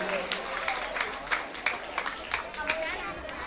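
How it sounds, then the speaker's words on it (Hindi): An audience at a Shrimad Bhagavat Katha gathering claps for the bhajan musicians, a steady rhythmic patter of hands mixed with crowd voices and chatter. "उनके लिए एक बार जोरदार ताली बजा दीजिए।"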